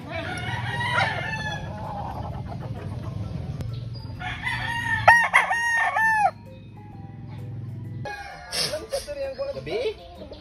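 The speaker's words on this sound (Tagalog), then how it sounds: "kung makikita nyo naman ay punong-puno po ng mga manok." Roosters crow loudly several times with harmonic calls, over a bed of clucking chickens and background talk.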